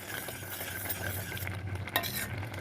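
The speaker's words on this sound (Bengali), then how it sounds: "সমাচার দিয়ে গ্যাসের ফ্লেম ফুল করে দেবেন, দিয়ে এরকম ফোটাবেন যাতে তেল আর রসুন সব মিক্স হয়ে যায়" Jute leaf (pat shak) curry cooking over a full gas flame, with a continuous bubbling, sizzling hiss and faint scraping in the pot, steady and moderately close.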